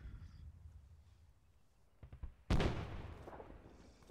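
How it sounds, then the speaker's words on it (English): Mortar round slamming into a compound in Arma 3 Operation Arrowhead: faint distant thuds, then one loud sharp impact with a decaying rumble, and another burst starting right at the end. "Got hit by mortar."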